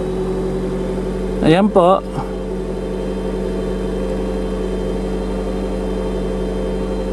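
A warmed-up Nissan Altima idles at low RPM during its throttle valve learning procedure, a steady, even engine hum that runs throughout, with someone speaking briefly near the start.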